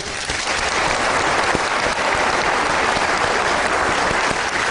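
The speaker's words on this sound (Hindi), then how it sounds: "आपके लिए तालियां" Loud, dense applause from an audience honoring Haider Ali, a guest at a studio program about blind achievers in Pakistan; steady clapping fills the room throughout without any speech.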